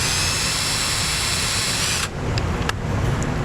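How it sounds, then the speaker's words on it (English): Power drill boring a hole through a rubber grommet during trailer wiring on a 2013 Chevy Cruze, a steady high whine close up that stops abruptly, followed by light handling clicks. "we're just going to drill a little hole right in here"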